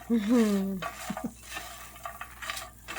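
Butter melts and sizzles in a pan with biscuits, a faint crackle broken by stirring scrapes and a clink of a utensil against the pan.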